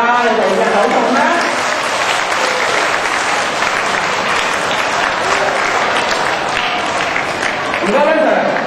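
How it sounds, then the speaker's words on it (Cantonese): A school party audience of students and teachers applauds loudly and steadily from start to finish, a dense wash of clapping with some voices mixed in. "俾多啲掌聲啦！"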